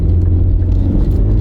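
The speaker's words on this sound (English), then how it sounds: "It has to rev up high to get going, but it gets going relatively quickly." A high-mileage car with a CVT transmission pulls away, producing a loud, steady low engine drone with no gear shifts, close by and without talking.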